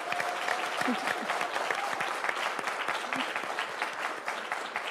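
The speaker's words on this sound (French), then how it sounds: "Ça s'applaudit." A seated audience claps in sustained, dense applause that holds steady throughout without any talk over it.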